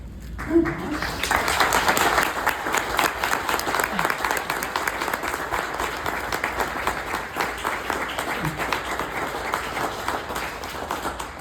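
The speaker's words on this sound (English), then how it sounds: "I'd like to ask all of you to stand and join me in giving my party a round of applause for a life well lived." Sustained applause from a standing crowd at a celebration-of-life memorial service, dense and steady for about eleven seconds with a faint voice briefly near the start.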